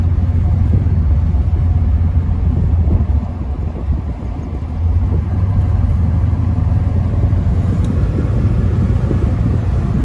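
1962 Chevy Corvair convertible engine drones steadily while driving, a loud continuous low rumble with a slight dip midway as the car accelerates along, no talk.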